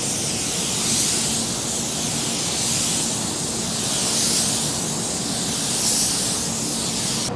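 A steady, close hiss of an Eastwood Elite Series spray gun dusting car paint onto a surface, swelling slightly in waves as it sweeps back and forth, with no talking.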